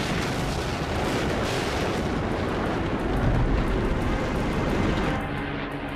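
Bombing and anti-aircraft fire in a WWII air raid on an RAF airfield roll on as a dense, continuous rumble of explosions and guns. The barrage stays loud and steady throughout, with no voices.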